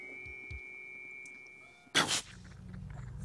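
A loud, abrupt sneeze bursts out close by during a chess puzzle in The 7th Guest, one sharp explosive burst followed by a brief tail, with quiet room background before and after.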